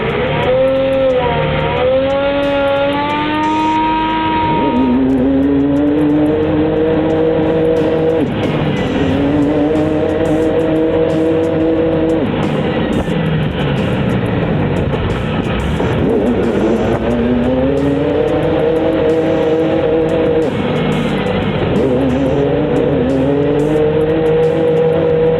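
A heavy oversized truck's engine revs hard while its tires spin without traction, a loud, continuous roar rising and falling in repeated surges with squealing tire noise over about twenty-five seconds.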